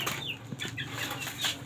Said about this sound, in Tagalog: Tara, titingnan natin yung mga alaga niyang manok